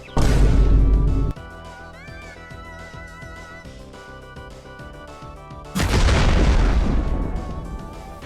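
A unit's dragon-throw attack in the video game Skibi Defense gives two loud booming blasts, one at the start and one near the end. A quieter stretch of game music and effects lies between them, with no voices.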